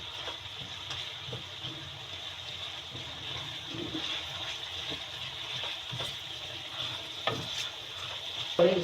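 A spoon stirs and mashes a potato, pea and carrot curry in a pan, with soft scraping and squelching strokes over a steady low sizzle, close and fairly quiet.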